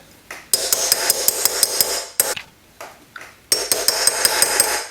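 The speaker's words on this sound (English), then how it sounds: "when you're doing this hammering, you concentrate on that thicker part and on the edges" A hammer strikes a metal cuff bracelet in quick, bright, ringing taps, close and loud, coming in three clusters with brief pauses between them.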